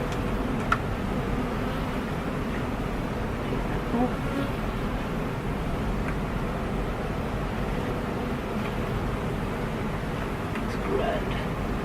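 Honey bees swarm around an open beehive during an inspection, a dense, steady buzz filling the air close by, with occasional faint knocks of handled frames.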